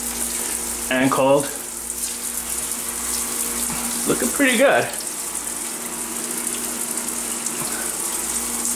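Water from a tap rushes steadily with a broad hiss, while a person briefly speaks twice over it.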